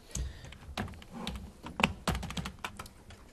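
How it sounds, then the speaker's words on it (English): Fingers tap out a quick, uneven run of soft keystrokes on a computer keyboard, close and fairly quiet, with no voices. "Oh, I can just type it here."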